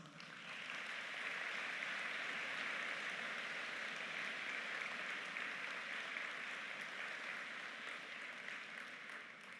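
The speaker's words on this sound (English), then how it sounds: "Let's give them a heartfelt applause" Applause from the audience at a business school spring convocation ceremony for graduates: a sustained, even wash of clapping that stays fairly distant and quiet from start to finish.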